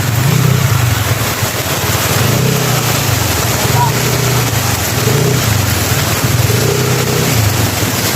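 Automatic motorcycles ride through floodwater over a street gutter after rain, their engines droning and rising in repeated pulses close by, with speech over the steady noise of the flooded road.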